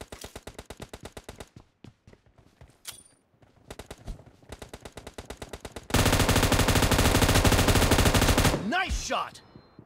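Gunfire in the video game PUBG: rapid automatic bursts and single cracks in a stop-start pattern, then a long, loud sustained burst that cuts off into a brief chirping effect.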